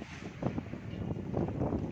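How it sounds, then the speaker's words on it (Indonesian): Strong wind roaring during a tornado in Bekasi, a rough, gusting rumble that swells over a couple of seconds and is buffeted against the microphone. "Angin besar."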